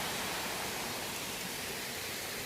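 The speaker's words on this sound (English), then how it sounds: "there's a very small waterfall, very beautiful" A small waterfall at Bachkovo Monastery in the Rodopi Mountains makes a constant, even rush of falling water, soft and unbroken throughout with no voices.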